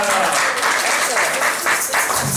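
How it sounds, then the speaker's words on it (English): An audience gives a round of applause for two speakers at the close of an event, a dense, steady wash of clapping filling the whole moment, with some voices mixed in. "Let's give them a round of applause."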